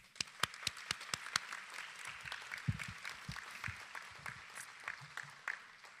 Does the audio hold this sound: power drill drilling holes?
no